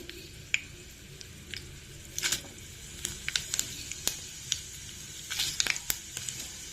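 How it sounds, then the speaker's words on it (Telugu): Tempering seeds hit hot oil and splutter, scattered sharp pops and crackles bursting irregularly over a steady low sizzle, close and lively, with no voices. "ఇప్పుడు పోపు గింజలు వేసేసుకుందాం."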